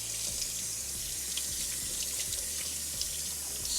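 Tap water running steadily over cured corned beef being rinsed in a kitchen sink, a close, even splashing hiss with faint clicks and drips throughout, no talking.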